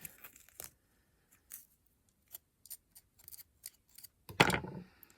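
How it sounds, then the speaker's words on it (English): A pepper being cut open to get at the seeds, heard as a series of short, close crisp snips and clicks separated by silence, ending in a louder rustling burst. "I cut in my pepper this way."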